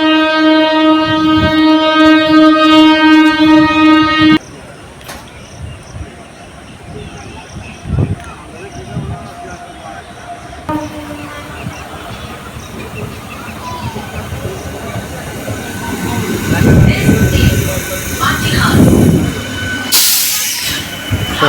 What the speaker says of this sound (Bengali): এই যে আমাদের আসছে আমতা লোকাল, সব থেকে লেট গাড়ি থাকে সারা বছর